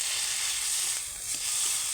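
Onion frying in oil with ginger and cumin paste, a loud, steady close-up sizzle with a bright hiss that barely wavers throughout.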